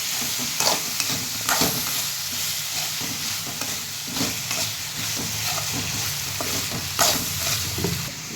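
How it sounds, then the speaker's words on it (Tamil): Brinjal (eggplant) sautéing in a hot pan for a dried fish curry, a steady close sizzle and hiss with repeated scraping stir strokes of a spoon against the pan, no voices. "இப்போ கத்திரிக்காய் போட்டு வதக்கிக்கலாம்."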